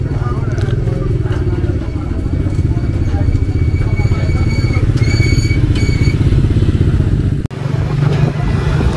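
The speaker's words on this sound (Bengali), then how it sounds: "এই এখন দাদার বাইকে উঠে পড়েছি" Riding as a passenger on a motorcycle on a trip in Mizoram, the engine hums steadily and close throughout over road noise and wind, with a sharp jolt near the end while a voice talks.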